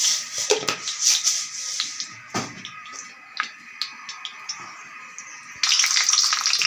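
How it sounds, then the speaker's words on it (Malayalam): Mustard seeds crackle and pop in hot oil for a chena upperi, a dense close sizzle full of rapid sharp ticks that rises to a louder burst near the end, with no voices. "കുറച്ച് കടുക് ഇട്ട് കൊടുക്കാം കേട്ടോ നമുക്ക്"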